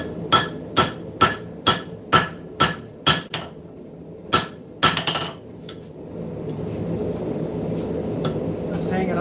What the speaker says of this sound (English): Kind of forging into this at an angle.